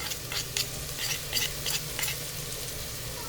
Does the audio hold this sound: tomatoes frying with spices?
yes